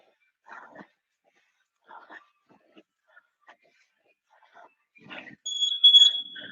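Workout interval timer beeping in a gym, with a steady high electronic tone rising loud near the end after scattered short talk.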